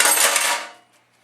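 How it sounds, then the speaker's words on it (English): Chopped apple pieces tumble from a bowl into a pie crust for an apple pie, a short close rush of clattering, rustling fruit lasting about half a second, then trailing off into quiet. "now I'm going to pour all these apples that we worked so hard to cut up into it"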